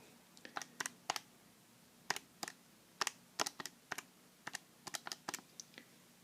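A calculator keypad being pressed to enter a calculation, with a series of light, crisp key taps in an irregular rhythm, close and quiet against a silent background.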